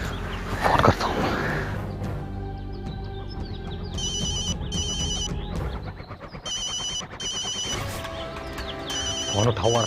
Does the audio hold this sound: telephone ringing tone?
yes